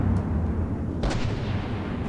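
Artillery volley in a naval combat video game, a dense rumbling roar with one sharper crack midway, loud and continuous without speech.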